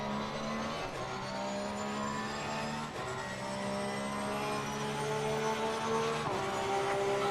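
A race car engine in Assetto Corsa Competizione holds a steady, loud high-pitched drone, its pitch climbing and dropping in smooth sweeps as the throttle is fed in and the gears shift, with no pauses.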